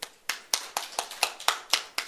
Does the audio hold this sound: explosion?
no